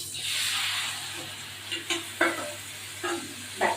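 Ground spices, ginger, cumin and chilli powder, sizzle steadily in a hot pan, with a bright frying hiss and several short scraping stirs close by, no voices.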